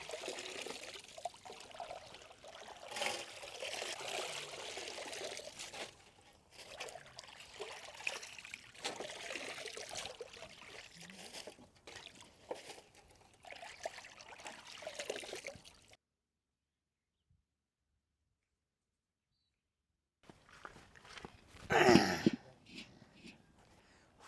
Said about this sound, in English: Now we'll clean the sorrel leaves and squeeze out that water.